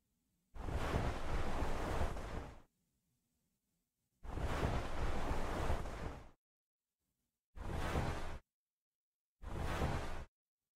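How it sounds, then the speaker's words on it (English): Four broad scraping bursts in a PARANOID Night Guard horror game death scene, a body being dragged: two long drags of about two seconds each, then two shorter ones, with silence between them and no speech. "It sounds like my body's being dragged, I guess?"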